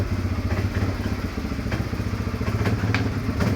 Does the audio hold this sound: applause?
no